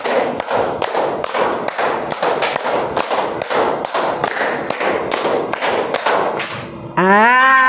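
A classroom of students plays a rhythmic clapping game, sharp group claps repeating in a steady, fast pattern for several seconds, loud and close, then a voice briefly speaks at the end.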